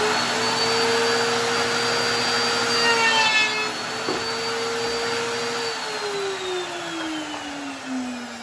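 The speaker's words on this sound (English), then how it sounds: "I take my router table here." A small router table with a 1.5-inch capacity, used in building a cherry wood glider, runs with a loud, steady high whine that drifts slightly in pitch, heard close and alone.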